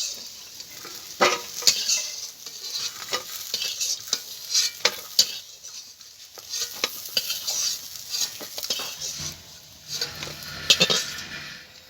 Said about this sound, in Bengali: সয়াবিনগুলো ভাজা হয়ে গেছে তুলে নেব